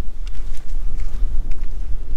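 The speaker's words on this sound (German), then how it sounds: "Und wie gesagt, windig ist es natürlich." Strong wind buffets the microphone on an open, cleared hilltop in freezing weather, with loud, gusty low rumbling that rises and falls throughout and no talk.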